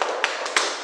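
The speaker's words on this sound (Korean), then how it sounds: "그 다음에 다시 박수 치고" Hands clap in a simple exercise routine, with three quick evenly spaced claps over a steady background hiss, close and fairly crisp.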